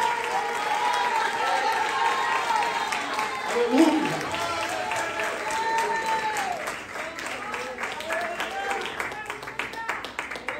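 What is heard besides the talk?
congregation applause in church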